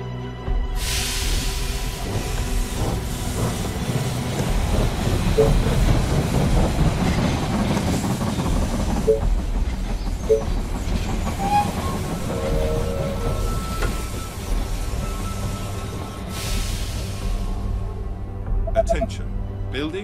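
A train pulls into a station in the strategy game They Are Billions, a rumbling, rolling rail sound with wind-like noise and squealing tones, under a voice announcing game events.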